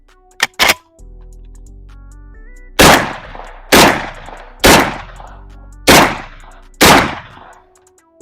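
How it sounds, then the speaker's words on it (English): Five loud, sharp blasts from a Saiga 12 shotgun loaded with double-aught buckshot, fired about one second apart. Each blast is followed by a brief echoing decay. A couple of quick metallic clicks and a low hum come before the first shot. "let's get it started with 5 shots of double-aught buck"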